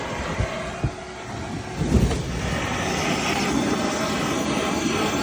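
A gas torch roars steadily while heating a lead sheet, a broad loud hiss with a couple of faint knocks near the start.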